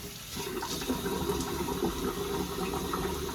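Water runs steadily from a tap as someone rinses off after a wet shave, a close, continuous splashing rush that stays even throughout.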